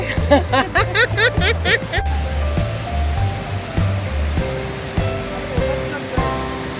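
A three-tiered monsoon waterfall at Pali roars steadily with a broad rushing wash, while people chatter and a few tonal, music-like sounds ring out at the start.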